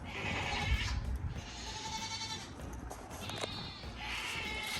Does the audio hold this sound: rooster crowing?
no